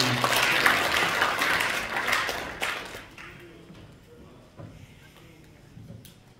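Audience applause fills a Korean environmental volunteer award ceremony hall, a dense sustained clatter of many hands that fades after about three seconds into scattered claps and room noise.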